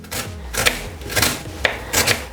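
A knife chops a medium white onion very small on a board, giving repeated close, crisp cuts in irregular bursts of quick strokes with brief pauses between.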